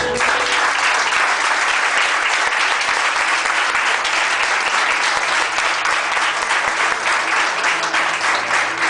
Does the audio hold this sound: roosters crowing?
no